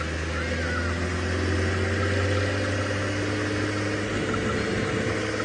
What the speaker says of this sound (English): I'm just going to try get away from the tractor.